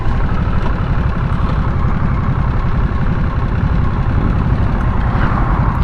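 A 2022 Harley-Davidson Nightster motorcycle engine runs at a steady idle, a continuous low, even rumble held close and loud throughout, with no voices.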